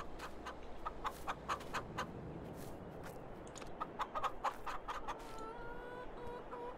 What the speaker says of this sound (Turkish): 50 tane tavuğumuz var